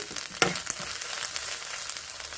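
Ridge gourd peel frying in a pan with a steady, quiet sizzle and a brief clatter near the start, alone without voices.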